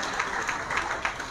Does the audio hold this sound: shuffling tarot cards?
no